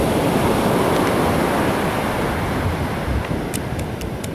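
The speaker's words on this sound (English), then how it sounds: "The noise you hear in the background is the Pacific Ocean." Pacific Ocean surf at Brookings, Oregon rolls as a steady, loud wash of breaking waves, with wind buffeting the microphone throughout.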